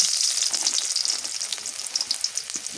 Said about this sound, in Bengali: এখন পাটের শাক ভাজি করি। পেঁয়াজ রসুন দিয়ে দিই